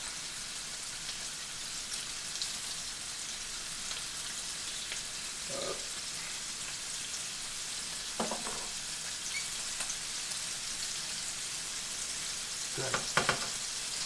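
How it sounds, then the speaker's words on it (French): Two garlic cloves fry in a pan with a continuous, even sizzle for the whole stretch, broken only by a few faint brief knocks or clatters. "Là, on va venir y rajouter 2 gousses d'ail."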